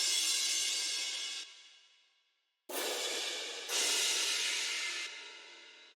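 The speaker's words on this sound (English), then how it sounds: "We have crashes." Crash cymbals from a dubstep build ring out in bright, washy hits, the first decaying for about two seconds before two more crashes follow in close succession, alone and fairly quiet.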